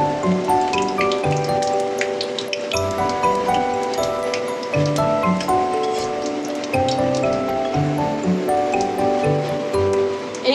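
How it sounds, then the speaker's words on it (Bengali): Panch phoron spices sizzle and crackle in hot oil for bottle gourd greens, a dense, continuous frying hiss with scattered pops, close and loud throughout. "ফোড়নের জন্য একটু পাঁচফোড়ন দিয়ে দিয়েছি"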